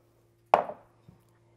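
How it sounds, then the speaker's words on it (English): A knife cuts through artichoke bottoms on a cutting board, one sharp close chop followed by a softer small tap, in an otherwise quiet kitchen. "we are going to cut up some artichoke bottoms"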